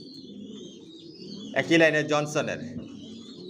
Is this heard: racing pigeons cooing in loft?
yes